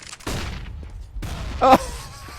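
A few quick bursts of MP9 submachine gun fire in the video game CS:GO, short sharp volleys spaced apart, close and fairly loud, with no talk over them.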